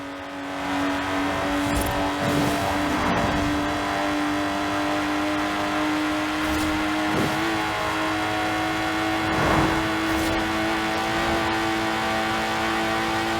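A Lotus Exige sports car driven in the Forza Horizon 4 racing game gives a steady engine drone with shifting pitch as it revs up and down, and occasional brief swells and whooshes. No voices are heard.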